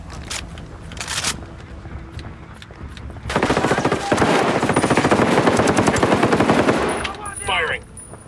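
Sustained automatic gunfire in the video game Ghost Recon Wildlands, loud rapid bursts rolling almost continuously through the middle of the clip, preceded by scattered shots and game noise.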